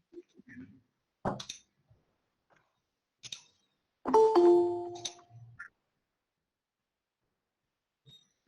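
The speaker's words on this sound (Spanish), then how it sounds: "¿Se siguen tocando el timbre ahí, Len?" A doorbell rings once, loud and sustained, at a building entrance. It sounds alongside brief clicks and scattered fragments of a voice, in an otherwise quiet room.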